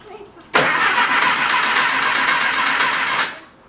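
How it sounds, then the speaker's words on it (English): A 1967-style classic Porsche 912 flat-four, freshly restored after 43 years off the road, cranks on its starter and then roars into life; a loud, steady run of the engine close by, ending abruptly as it cuts out. "The starter works."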